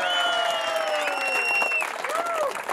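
Wedding audience applauding steadily throughout, a dense clapping roar that briefly eases near the end, with a man singing or calling out over it.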